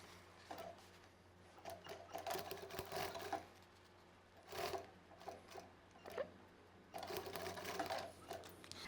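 A sewing machine runs in short, rapid bursts while stitching a strap onto a small children's backpack, its quick mechanical chatter starting and stopping several times, fairly close but quiet.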